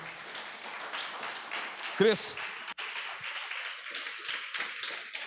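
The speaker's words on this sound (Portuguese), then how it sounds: "Se você quiser, você pode aplaudir ao Senhor." A church congregation applauds during a Sunday evening service, a dense, steady patter of many hands clapping throughout with a brief louder tap midway, while a voice speaks over it.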